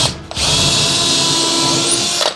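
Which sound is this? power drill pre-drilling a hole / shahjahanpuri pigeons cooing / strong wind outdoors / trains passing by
power drill pre-drilling a hole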